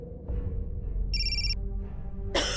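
A telephone rings in a quiet room, a single electronic ring burst partway through followed by another starting at the end, over low background hum.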